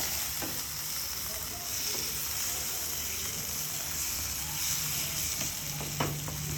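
Masala for egg masala curry sizzling and frying in a hot pan, a steady close hiss with occasional soft stirring sounds.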